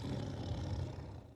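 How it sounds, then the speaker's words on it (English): The MGM lion roar from a film logo: a dense, rough, low rumbling roar that fills the whole moment steadily at a modest level before easing slightly at the end. "I like the MGM Lion."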